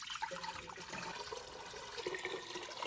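Water pours and splashes into a mason jar while it is filled for water-bath canning of pickles, a short, steady rushing sound close by with no talking.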